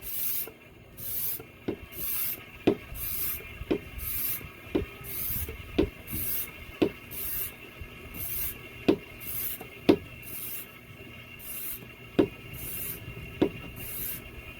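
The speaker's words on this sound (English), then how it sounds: "we're gonna pump this a little bit more just to see" A hand pump draws engine oil out of a boat engine in a steady, regular rhythm, each stroke giving a hissing, rasping suck and a sharp click, repeated about a dozen times up close.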